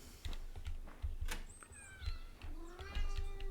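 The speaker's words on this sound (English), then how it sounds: "And a cat who wants to play." A cat meows repeatedly in the video game Maid of Sker, its rising tonal cries clear among soft thuds and other game sounds.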